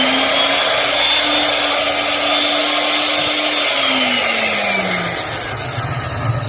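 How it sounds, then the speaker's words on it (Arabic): Electric spice grinder whirring loudly and steadily as it grinds salad spices, a continuous high motor whine whose pitch dips slightly near the end, with no talking. "هنشغل المطحنه ونرجع لكم تاني"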